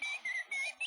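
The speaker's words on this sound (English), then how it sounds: "This is the sound of the oriole." A Baltimore oriole gives a short series of clear, whistled notes. The notes are faint and fairly close, with brief gaps between the phrases, and nothing else is heard.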